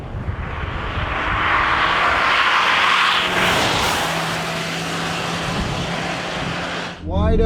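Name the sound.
Toyota RAV4 Prime accelerating wide open on race track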